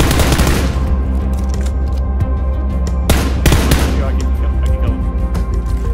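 Rapid automatic gunfire in PUBG, loud close bursts and sustained fusillades filling the whole stretch, with a player talking over the shots.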